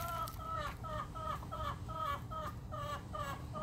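A hen clucks in a steady run of about a dozen short, evenly spaced calls as she settles into a nest in a coop, fairly close and quiet over a low background rumble.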